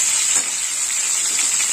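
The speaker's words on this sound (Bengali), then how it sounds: "এবার আমি মটরশুঁটি দিয়ে দেবো।" Peas tip into a pan of lightly fried cauliflower for a cauliflower and carrot curry, bringing a close, continuous hiss and sizzle with faint stirring scrapes.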